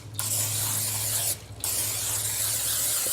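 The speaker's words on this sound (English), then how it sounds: "take you some no stick spray and generously spray your skillet" Two long hissing bursts of non-stick cooking spray onto a skillet, broken by a short pause, over a steady low mechanical hum.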